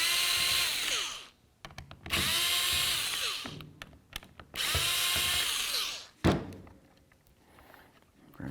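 A power screwdriver whirs in three long bursts on a workbench, driving out the mounting screws from a 2002-08 Dodge Ram power window switch, with small clicks and a thunk between runs.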